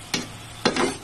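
Beef pigar pigar frying in a pan while being stirred, two short scraping strokes over a soft steady sizzle.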